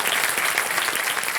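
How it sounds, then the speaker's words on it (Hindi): A studio audience on Kaun Banega Crorepati applauds, a brief dense burst of clapping, steady and fairly loud throughout. "तालियों के साथ इनका स्वागत।"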